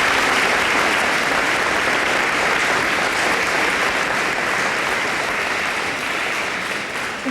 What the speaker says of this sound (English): And everybody deserves an award, and especially a round of applause.